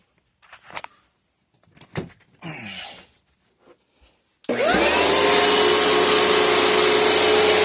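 A 2004 Panasonic upright vacuum cleaner with an LED headlight switches on after a few handling clunks and clicks, then runs as a loud, steady close roar with a high whine until the end.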